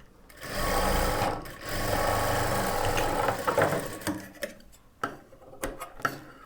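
A sewing machine stitches a blouse lining in two sustained bursts, then slows into short, irregular runs and ticking stops, clear and fairly close.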